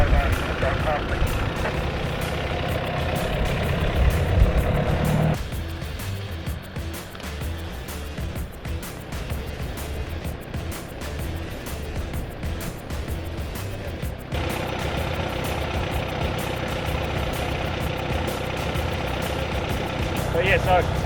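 A 4WD vehicle crawls off-road on a North Cape overland route in New Zealand, its engine rumbling steadily and easing back in the middle before rising again, with people talking over it.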